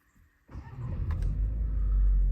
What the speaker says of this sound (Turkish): Aracı çalıştırıyorum.